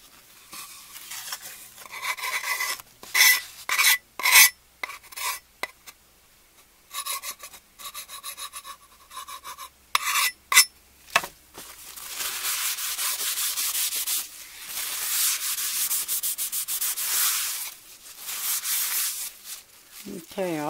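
A putty knife scrapes a sticker off the wooden body of a guitar held flat against the surface, producing bursts of dry rubbing strokes, then a longer steady stretch of continuous close scraping.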